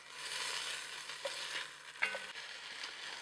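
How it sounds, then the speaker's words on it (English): Beef cubes browning in hot oil in a pan for a stew, a steady soft sizzle with a few light clinks and stirring scrapes, no talking. "start browning your second batch of beef"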